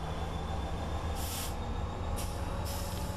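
A diesel locomotive driven in Train Simulator 2015: steady low rumbling engine and rolling drone with a few brief hissing bursts, continuous and alone with no talk.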